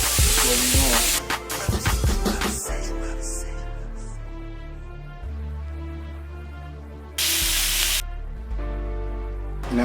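Food frying in batches in a pan, cooked to a golden brown: a loud, steady sizzle and spray runs throughout, with bursts of sharper spitting near the start and again toward the end.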